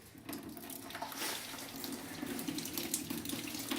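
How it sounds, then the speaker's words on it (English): Water drains and drips into a bucket during a building shutdown, a continuous close splashing trickle like a running tap, with no talking. "I just put a bucket like that and let it drain,"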